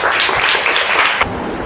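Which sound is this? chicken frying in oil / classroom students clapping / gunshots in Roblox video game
classroom students clapping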